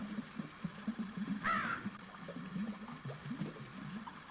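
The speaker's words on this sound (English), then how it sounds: "Is that even a real bird?" A bird caws once in the 1996 DOS game Deus, a short harsh crow-like call over a steady low engine-like hum and murmuring background.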